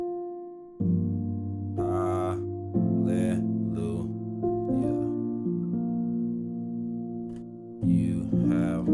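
Piano plays a simple song with chord inversions, sustained chords struck at intervals with higher melody notes ringing above, moderately loud and alone.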